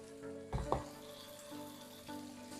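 A generous tablespoon of butter is dropped into a pan on high heat. A faint sizzle flares up briefly and then settles into a quiet, steady frying hiss.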